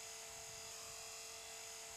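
A radio-controlled model helicopter hovers and wobbles in place a short distance ahead of its pilot, giving off a steady, faint whining buzz with no voices.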